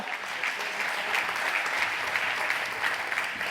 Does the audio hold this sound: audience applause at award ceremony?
yes